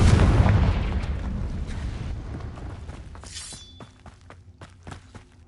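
A Confringo fire spell explodes in Hogwarts Legacy: a loud, booming blast that decays over a few seconds into crackling debris, with scattered small impacts and a brief shimmering ring.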